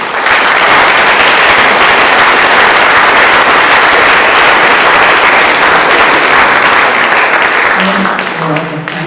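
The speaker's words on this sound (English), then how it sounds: "Another big applause for him." A conference audience gives loud, continuous applause after a talk, a dense wash of clapping that holds steady throughout, with a voice emerging faintly as it tapers at the end.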